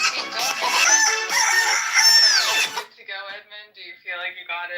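A rooster crows in a short strained call near the start, overlapped by a person imitating a chicken crow and mocking complaints; talk follows in the second half.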